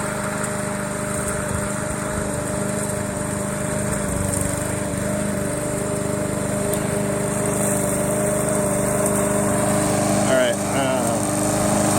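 A remote control lawn mower runs steadily throughout with a continuous high-pitched motor whine and mower drone, close and fairly loud, holding an even level for the whole stretch.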